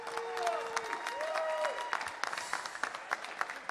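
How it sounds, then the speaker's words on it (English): Applause for squash players Sam and Gerrits after a match at a squash venue, a steady crowd clapping that fills the short clip, with whistles or squeaky tones near the start and sharper claps toward the end. "Round of applause to Sam and Gerrits."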